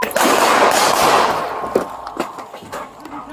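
A rapid close burst of loud gunshots during a police shooting, followed by a few scattered sharp cracks as the noise fades.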